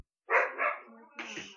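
A dog gives two quick barks close by, then another bark after a brief pause, with voice-like sound mixed in.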